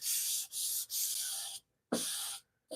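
Someone hand sands a wood finish with 400 grit sandpaper: five close, rhythmic rasping strokes, each broken by a short pause, with brief silence between the later passes.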